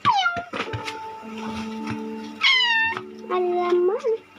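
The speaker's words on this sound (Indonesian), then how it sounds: "Kucing." A cat meows repeatedly and close to the mic. Several drawn-out, rising and falling cries mix with a few short calls over a low steady hum, with no talk.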